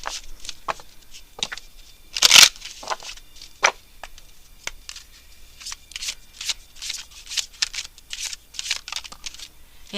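Romance Angels oracle cards are shuffled close by, a run of crisp papery riffles and slaps of varying strength with one louder burst early on, continuing steadily with no talk.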